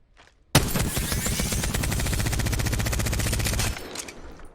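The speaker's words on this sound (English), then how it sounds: "I am tap firing as fast as I can" The Havoc weapon in Apex Legends firing in a rapid, continuous stream of loud, close shots for about three seconds, then cutting off abruptly.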